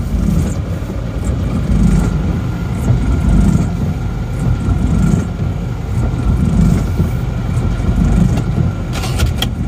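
Isuzu Panther car engine idles steadily up close, a low, even diesel rumble with a slight rhythmic pulse and faint metallic ticking, continuous throughout.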